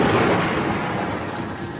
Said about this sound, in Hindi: बाहर होती बरसात में अचानक गरजती हुई बिजली की आवाज से टूटी